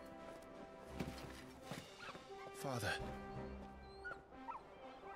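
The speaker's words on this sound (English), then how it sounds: "I was talking to the dog." A hound in the video game Staying Alive with Clive, barking and whimpering in short bursts beneath spoken character dialogue.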